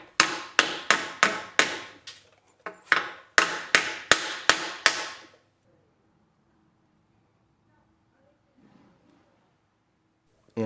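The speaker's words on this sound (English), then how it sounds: "Then it's tapped in using a hammer and a block of wood." A hammer drives a pinion seal into a Jeep Liberty rear axle housing through a wooden block: about a dozen sharp, evenly spaced knocks in two quick bursts, then near silence with faint shuffling.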